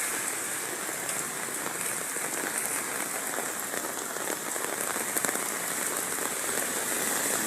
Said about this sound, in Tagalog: biglang lumakas yung ulan dito guys sa Bagumbong, Caloocan